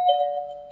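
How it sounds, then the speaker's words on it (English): A Friedland battery or electric door chime from 1964 gives a single clear bell-like ding that rings out and slowly decays, alone and close. "Give a FRIEDLAND battery or electric door chime, priced from as low as 37 6."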